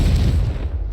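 A Confringo fire spell in Hogwarts Legacy bursts with a short, deep, loud boom that fades out within a second.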